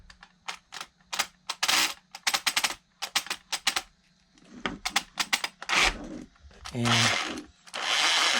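The electric motor of a Hosim X07 RC car with a damaged differential whirs in short and then longer bursts, with a rough grinding edge, close up, broken by clicks and handling noises while someone speaks.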